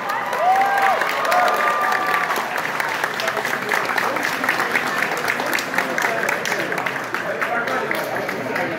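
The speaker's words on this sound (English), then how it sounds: "One last round of applause for our winners." A convention audience applauds its winners on stage, with dense, sustained clapping and some cheering close by, loud and steady for about nine seconds.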